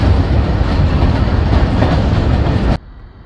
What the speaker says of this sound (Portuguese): O trem aqui parado, ele vindo, né?